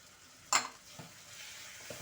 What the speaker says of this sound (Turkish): Şimdi kırmızı domateslerimi ekliyorum.